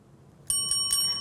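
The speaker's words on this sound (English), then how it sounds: "Ah, you heard the bell," A bell rings to start class, a bright metallic ting sounding in three quick strikes after brief quiet, each one ringing on clearly.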